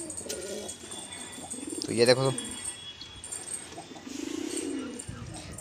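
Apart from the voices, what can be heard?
pigeons cooing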